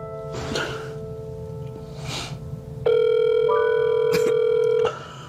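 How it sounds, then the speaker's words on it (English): A telephone handset plays a steady tone followed by a long electronic ring, with faint breathy sounds at the start, indoors and close, no speech. "he reaches for the phone and dials his mom's number."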